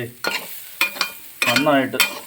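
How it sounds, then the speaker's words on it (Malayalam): Bitter gourd and dried shrimp thoran is stirred in a pan, with a few close scraping strokes of a spoon against the metal in short bursts. "നമുക്ക് ഒന്നും കൂടെ ഇളക്കി കൊടുക്കാം"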